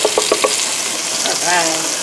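Onions and garlic hitting a hot pan for a spaghetti sauce with ground turkey, a loud steady sizzle filling the space, a few quick clicks of a utensil at the start and a brief voice underneath.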